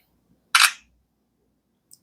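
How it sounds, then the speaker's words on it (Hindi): An Oppo A5i phone's 8-megapixel rear camera fires one short, crisp shutter click that stands alone in quiet, followed by a tiny faint tick. "तो ये पिक्चर क्लिक की है इस फ़ोन के रियर कैमरा ने"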